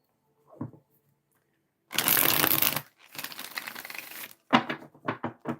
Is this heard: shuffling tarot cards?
yes